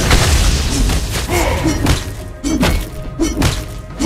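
A turret is destroyed in Mobile Legends, with heavy booming thuds and crashing impacts repeating over a few seconds, loud and dense game effects layered together.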